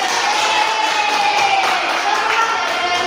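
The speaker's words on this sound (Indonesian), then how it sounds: "Beri aplaus untuk ini ya" Schoolchildren in a classroom clap and cheer together, a steady close wash of applause and young voices lasting the whole stretch.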